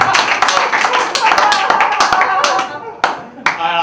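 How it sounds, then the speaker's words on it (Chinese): A stand-up comedy crowd claps loudly and briskly, a dense burst of close hand claps that thins out briefly near the end before picking up again. "现在来点掌声好不好？"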